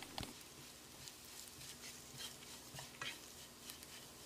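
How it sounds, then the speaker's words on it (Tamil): A spoon stirs chili, coriander and cumin powder in a pan, giving soft scraping and light clinks against the metal over a quiet sizzle. "2 டேபிள் ஸ்பூன் மிளகாய்த்தூள், 1 டேபிள் ஸ்பூன் மல்லித்தூள், அரை டீஸ்பூன் சீரகத்தூள், ஒரு 10 செகண்ட் இதை பெரட்டி விட்டுடலாம்."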